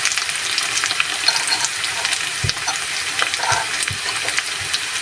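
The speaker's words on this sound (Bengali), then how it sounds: "দিয়ে মশলাটাকে আমি কষিয়ে নেব।" Cumin and coriander spice paste sautéing in a pan for a prawn bhuna with coconut, a steady loud sizzle and crackle with occasional scrapes of the spoon across the pan, continuous throughout.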